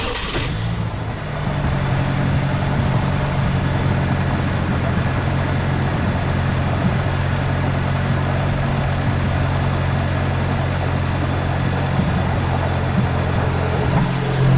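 A Saab 9-3 or 9-5 car engine idles steadily and smoothly with a low, even rumble that holds constant throughout, close by and without talk.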